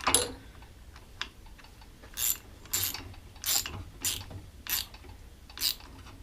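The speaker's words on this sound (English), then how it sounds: "just run a deep well socket over the top of it and get it seated in there real good" A ratchet fitted with a deep well socket tightens a leaky shock reservoir on a Polaris RZR 900S, giving several evenly spaced bursts of clicking, close and clear over faint background hum.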